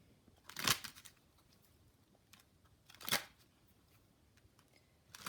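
A Kipper oracle card deck being shuffled up close, heard as two distinct riffling bursts a few seconds apart and the start of a third, with quiet pauses between them and no talking.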